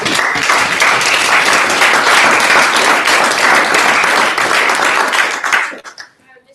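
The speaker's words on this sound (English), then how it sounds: "do another round of applause" Breakout-session audience at the Nexus event giving a loud, sustained round of applause, dense clapping for about five and a half seconds before tapering off and ending abruptly.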